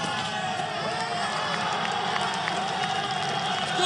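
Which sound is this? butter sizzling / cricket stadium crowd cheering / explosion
cricket stadium crowd cheering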